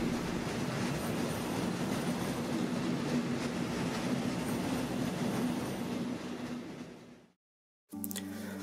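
Trains at Frankfurt main station make a loud, steady rolling rumble with a low droning hum. The sound fades out into a brief silence, and then a different sound cuts in.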